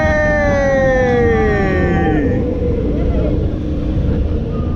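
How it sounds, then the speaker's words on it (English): A roller coaster at SeaWorld Orlando fires a backwards launch on a multi-pass launch track, a loud rising then falling electric whine sweeping past over heavy rumbling, with riders' voices mixed in. "We're gonna start with a backwards launch"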